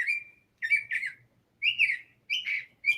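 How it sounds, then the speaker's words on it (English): A loud bird sings close by in repeated bright chirping, whistled phrases, four bursts separated by short pauses, with no talking. "I have a very loud bird behind me."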